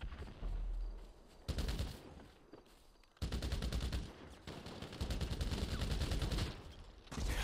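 Rapid gunfire from a marksman rifle in GTA, heard in several loud, dense bursts of repeated shots broken by brief pauses, with no talking.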